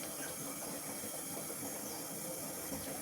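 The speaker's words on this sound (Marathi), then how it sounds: "सगळे ड्रायफ्रूट्स घेतलेले आहेत आणि ते बारीक करून घेऊयात" An electric mixer grinder coarsely grinds dry fruits, including fox nuts and dried coconut, into a rough powder for ragi laddoos, giving a steady, dense whir with a gritty rattle that runs continuously at moderate level, with no talking.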